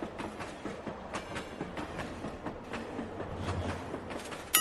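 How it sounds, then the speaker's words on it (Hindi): A train rolls steadily past at close range, its wheels clattering in a repeating clickety-clack rhythm over the rails for the whole stretch, with no talk over it. "वो देख हम लोग का ट्रेन आ रहा है"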